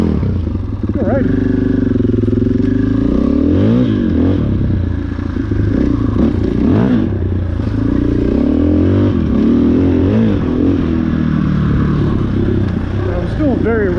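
A 2022 KTM 500 off-road motorcycle engine runs steadily and loudly up close on a wet trail ride, its pitch rising and falling with throttle through the whole stretch, with scraping and clattering mixed in.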